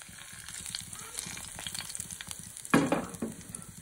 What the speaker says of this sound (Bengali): প্রথমে সাদা তেল দিয়ে দেবো, জিরে আর শুকনো লঙ্কা,